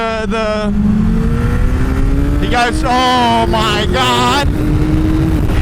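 A Suzuki Hayabusa motorcycle with a new loud exhaust revs loudly up and down close by, with rising and falling exhaust tones, while a person exclaims over it.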